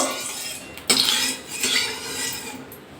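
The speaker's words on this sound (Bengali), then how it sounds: "তেলটা গরম হয়ে গেছে একটু নাড়িয়ে নেব কড়ার চারিদিকে নাড়িয়ে নেবো" Hot mustard oil stirred around a wok with a metal spatula, a sharp scrape and clatter near the start followed by continuous rubbing and swirling against the pan, loud and close.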